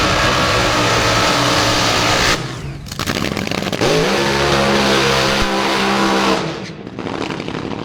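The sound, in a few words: Top Fuel dragster racing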